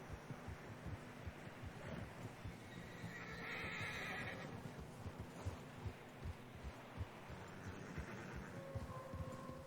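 A video game horse snorts and neighs amid a steady trudge of hoofbeats through fresh snow, with wind blowing and a soft whinny midway.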